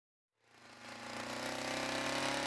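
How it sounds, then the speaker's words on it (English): A two-stroke Qualcast garden power tool engine, grass trimmer or brushcutter type, starts after brief silence and settles into a loud, rapid, buzzing idle that grows steadily rougher and stronger, close and alone. "Once the engine is running, the choke can be turned off by operating the throttle lockout and pulling the throttle trigger"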